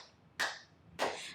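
Two sharp, close hand claps ring out about half a second apart, keeping time along to a song, with nothing else in the background.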